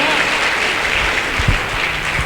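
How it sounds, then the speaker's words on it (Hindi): An indoor audience at a motivational business talk breaks into hearty applause, a dense, loud wash of clapping that runs steadily through the short clip with a faint voice underneath. "एक बार जोरदार तालियां गुरुजी के लिए"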